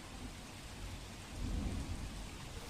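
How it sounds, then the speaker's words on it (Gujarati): Heavy monsoon rain pours down over Surat, a dense, steady roar of rain on surfaces with a low rumbling swell, continuous and enveloping with no voices. "સુરત શહેરમાં વહેલી સવારથી ધોધમાર વરસાદ જોવા મળી રહ્યો છે"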